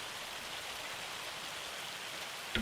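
Hail and rain in the Farming Simulator 25 video game make a dense, steady hiss of falling precipitation, uniform and moderately faint throughout.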